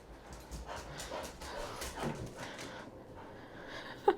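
A dog pants steadily and lets out soft whimpers and whines indoors, close and fairly quiet, ending with a sharper yelp.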